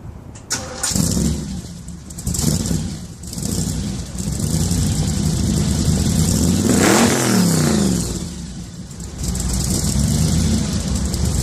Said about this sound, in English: 1998 Ford Taurus. Why don't you fire it up?